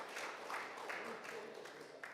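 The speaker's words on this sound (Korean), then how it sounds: "큰 박수로 다시 한번 큰 박수 부탁드리겠습니다." Seminar audience applauding in a large hall, a steady spread of claps heard at moderate distance, with voices mixed in underneath throughout.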